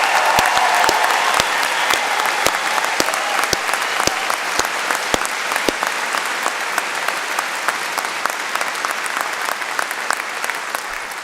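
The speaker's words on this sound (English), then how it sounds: "That was a great round of applause, but you know what? I think we can do even better." Sustained audience applause at a university graduation ceremony for art, design and media students, a broad continuous wash of clapping with sharper individual claps standing out, slowly easing in level.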